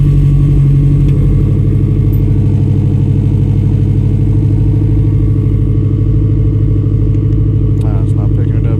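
A K-Pro tuned car engine runs at a loud, steady idle with a dense rumble throughout, a faint voice under it and a few light clicks near the end.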